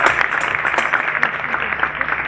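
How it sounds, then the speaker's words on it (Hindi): Audience applause at a church prayer festival, a dense steady wash of clapping hands sustained throughout, close and fairly loud, with no talk over it. "जोरदार तालियां बजाए"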